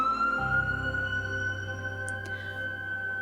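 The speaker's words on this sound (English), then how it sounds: "So many sirens." Police sirens sounding outside, a sustained wavering electronic wail with steady tones that hold throughout, heard indoors at moderate volume with no talk.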